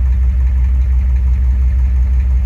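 A diesel truck engine with a fuel injection pump idles fairly smoothly, a steady low rumble with a regular pulsing beat, close and loud, with no talking.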